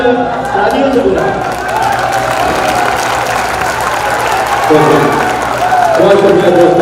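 An audience at a youth poetry mushaira applauds in a steady wash of clapping, mixed with crowd noise and a voice speaking over it.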